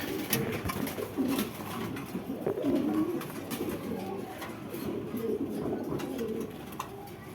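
Pakistani Giribaz and racer pigeons coo continuously and close by, several soft overlapping calls rolling on without pause, with no clear speech over them.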